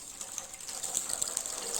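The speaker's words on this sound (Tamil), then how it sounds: "நான் இப்போ இந்த சொம்புக்கு 1 சொம்பு தண்ணி ஊற்றுறேன்." Water is poured from a small vessel into a cooking pot for rasam, a steady close gushing splash lasting the whole moment with no talk over it.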